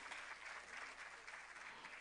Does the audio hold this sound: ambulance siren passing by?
no